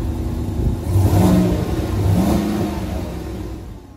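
A 2021 GMC Yukon Denali engine revving through its dual exhaust: two swelling rev bursts over a steady idle rumble, fairly loud and nearby, with no speech.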